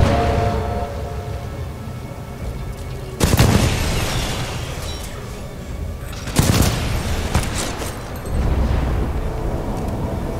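In Titanfall 2, heavy booming blasts go off in sequence over a constant roar of rumbling noise and distant gunfire, loud and dense throughout.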